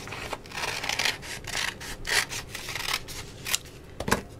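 Scissors snip through folded cardboard to cut out a Valentine heart shape, a series of close, quiet crunching cuts and rustles arriving irregularly, with no talk.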